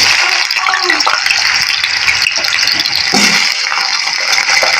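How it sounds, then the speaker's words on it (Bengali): Potatoes fry in hot oil for a cabbage and egg dish, a loud, steady sizzle with crackling and hissing that carries throughout, while a voice speaks faintly under the noise. "তেলটা গরম হয়ে গেছে, এবার আমি প্রথমে আলুটা ভেজে নেব"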